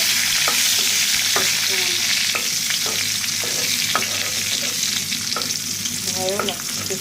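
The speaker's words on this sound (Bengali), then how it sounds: "তো এখানে ইলিশ মাছ ভাজতেছি, সঙ্গে শুকনো মরিচ ভাজতেছি।" Hilsa fish pieces and dried chillies fry in hot oil with a loud, constant close sizzle, broken by occasional light pops and clicks from the pan; no one speaks.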